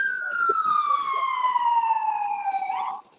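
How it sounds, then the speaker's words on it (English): An ambulance siren wails loud and close, its steady tone sliding down in pitch as the vehicle passes by, then cutting off abruptly near the end. "No, that's the ambulance."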